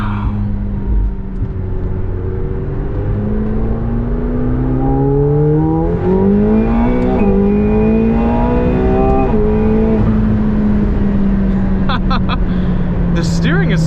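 A 2021 McLaren 720S engine pulls hard under full throttle, its rising and falling revs sweeping up through the gears as a steady cabin drone, heard from inside the car with someone talking over it.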